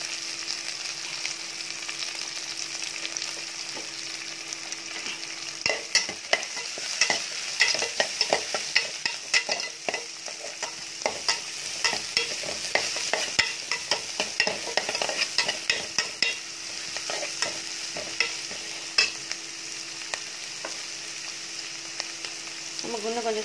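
Onions sizzle in a hot pan under a steady hiss while a spoon scrapes and stirs repeatedly, close up.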